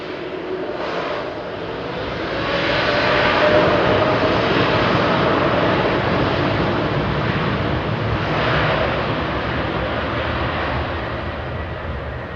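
An Air India airliner departs Heathrow at night, a loud, continuous jet engine roar swelling around the middle and holding steady, with no voices over it.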